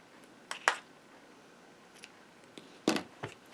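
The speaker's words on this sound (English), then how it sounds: "Snip the ends." Scissors snip the ends of ribbon bow tails on a handmade magenta valentine card, with two or three crisp, close cuts separated by quiet pauses.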